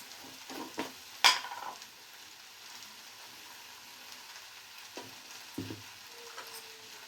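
Tomato, potato and cauliflower frying in oil and being stirred: a faint, low sizzle broken by a few sharp spoon knocks and scrapes against the pan, one louder clack early on.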